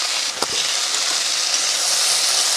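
Okra sizzles as it is stir-fried in a pan with salt, a steady bright hiss with one soft knock of the spatula early on.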